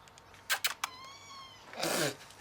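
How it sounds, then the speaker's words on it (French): A cat outside meows during a brake pad job on a PT Cruiser, a couple of drawn-out, fairly close cries with a short burst of other noise in between. "il y a un chat dehors, c'est normal."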